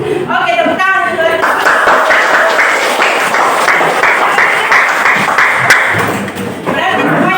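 Students in a class clap their hands in a sustained round of quick, loud slaps, bunched closely together for several seconds, with voices talking before and after.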